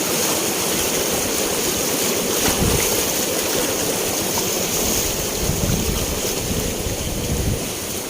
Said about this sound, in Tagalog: grabe ang baha. Tawidin natin to.